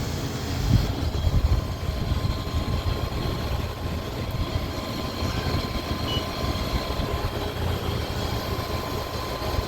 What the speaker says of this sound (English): I know this compressor is going to be on now for a couple of hours